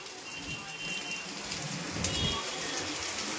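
Light, steady rain patters softly in Dwarka, a faint even hiss with scattered drops and no voices.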